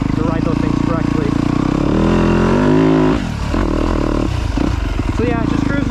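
A Yamaha YZ125 or YZ250F dirt bike rides a trail, its engine droning loud and continuous with throttle swells and a brief dip midway, heard from the rider's position with wind noise.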